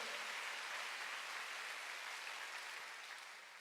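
Members of a church congregation clap together in a steady wash of applause that fades slightly toward the end, fairly faint overall.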